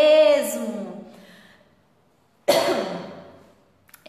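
A woman coughs twice, each a loud rasping burst that fades over about a second, separated by a pause, with a small throat sound at the end.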